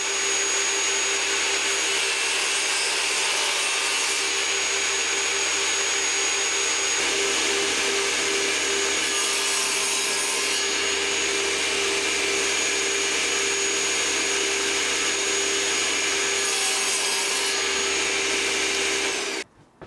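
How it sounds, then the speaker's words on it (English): A table saw with its blade lowered to about 1mm cuts shallow grid grooves into a wooden tic-tac-toe board, the fence set at 3cm. The motor whines steadily and loudly throughout, the pitch shifting slightly as each pass goes through, then it cuts off at the end. "I think I'm going to use the table saw to put it on"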